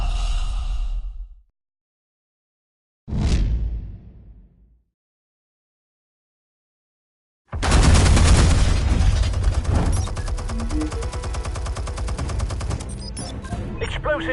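Heavy sustained gunfire erupts in the Batman Telltale video game, loud and dense after a stretch of near silence, preceded by a brief breathy burst and a short sharp sound.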